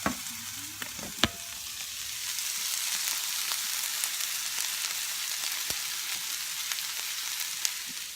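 Steady sizzling of cauliflower and eggs frying in a pan, a soft continuous crackle with occasional sharper pops, close by and without speech.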